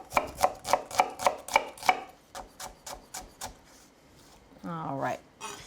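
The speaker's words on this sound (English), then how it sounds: "A lot of people I know like to use a smaller knife when mincing a shallot" A knife mincing a shallot on a cutting board, a quick run of sharp, evenly spaced chops up close, slowing to softer taps, followed by a short burst of voice.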